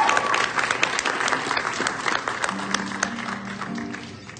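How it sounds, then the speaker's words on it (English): Inside a theatre, a concert crowd applauds the band with steady clapping, fairly close, while a faint note hums briefly underneath. "let's give a round of applause for the band"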